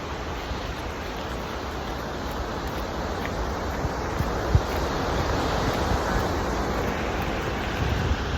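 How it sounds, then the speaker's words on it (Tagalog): Steady, loud rush of water roaring continuously at Manitou Falls, Canada, swollen by rain, with no voices over it. "Narinig ko na yung rumaragasang tubig."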